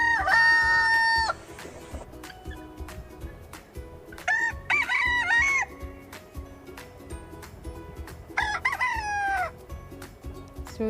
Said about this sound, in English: So this is the sound of the cock.